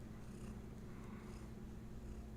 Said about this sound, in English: Do you want to purr?